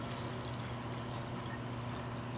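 Blackberry wine is poured out of a gallon jug, giving a continuous low gurgling pour for about two seconds with faint splashing, close by and without talk.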